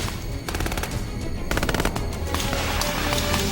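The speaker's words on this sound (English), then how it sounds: "Since they are firing blanks," Blank rifle rounds fire in dense, rapid bursts during an Army Ranger training firefight, a loud, continuous rattle of automatic gunfire with overlapping shots and no speech.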